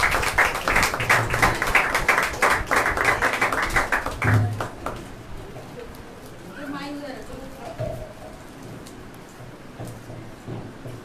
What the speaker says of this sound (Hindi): तो आइए जोरदार ताली के साथ में स्वागत करेंगे पास्टर का